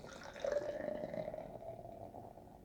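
North Fork Brewing pumpkin ale poured into a glass, a soft steady trickle and fizz that swells briefly then tapers off, quiet and close with no talking.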